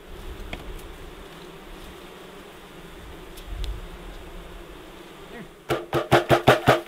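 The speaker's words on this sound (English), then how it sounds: "what I'm doing right now is trying to get every little last single bee out" Honeybees buzz steadily around a newly installed hive outdoors in cold Alaskan spring weather at dusk, a low continuous drone close by, ending with a run of sharp rhythmic knocks or bumps.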